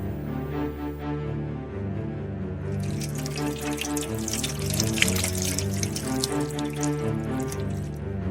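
Water pours steadily, as if into a basin for Pilate's hand washing in a Passion of Christ scene, beginning a few seconds in and running continuously under sustained orchestral music.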